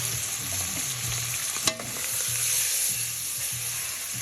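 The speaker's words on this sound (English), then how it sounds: "Now I'm gonna start adding my vegetables in there." Vegetables frying in a hot pan for ropa vieja give a steady loud sizzle throughout, with periodic stirring scrapes and one sharp knock near the middle, no talking.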